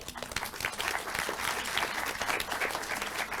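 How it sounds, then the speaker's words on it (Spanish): An audience at a legislative forum on child and adolescent sexual violence claps steadily for the next speaker, a dense, even round of applause heard from within the room throughout. "Vamos a darle un fuerte aplauso."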